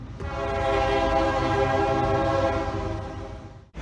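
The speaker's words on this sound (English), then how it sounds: "Join us aboard Iryo on their high-quality Italian trains from Madrid to Barcelona." An Iryo Italian-built high-speed train on the Madrid to Barcelona line gives a long, steady, loud tonal horn blast that holds for several seconds before cutting off abruptly.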